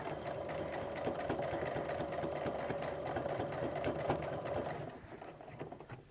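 A sewing machine back stitching fabric for an apron runs in a fast, steady mechanical whir of close needle strokes for about five seconds, then slows and softens, with no voices.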